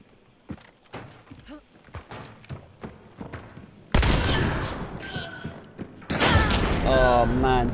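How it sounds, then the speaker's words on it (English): Shotgun blasts in a video game while clearing a building, starting with scattered quieter thuds and mechanical clicks, then two loud, broad booms later on, each followed by ringing decay. "let's clear this building here with a shotgun"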